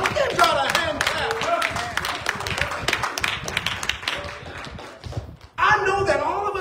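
A church congregation claps hands in a lively, uneven burst of many sharp claps, fading briefly before a fresh wave of applause and voices at the end.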